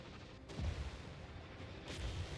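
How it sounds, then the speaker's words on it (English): Magma Cannon artillery in Total War Warhammer 3 fires in a low, rumbling boom, followed by a second distant blast a moment later against a steady battle din. "So a second Magma Cannon is firing while the first Magma Cannon is getting eliminated."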